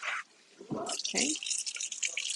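Food for a beef pot roast being rinsed under a kitchen sink tap, with a strainer fitted over the sink; running water splashes in bursts, and a brief voice is heard near the start.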